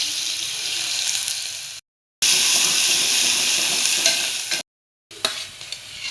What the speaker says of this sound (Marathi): कांदे टाकून घेते।